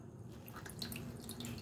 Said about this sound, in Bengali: আর সঙ্গে সঙ্গে কিন্তু জলটাকে এইভাবে নিংড়ে সব বের করে নেব